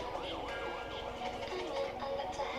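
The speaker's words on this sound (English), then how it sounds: "you hear the sirens of an ambulance" An ambulance siren wails up and down within a song, its rising and falling tone repeating over a busy backing track.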